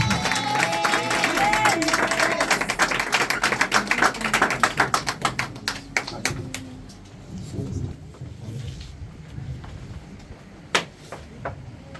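A crowd at a church service claps and cheers loudly at first, with voices mixed in, then the applause thins to scattered individual claps and fades.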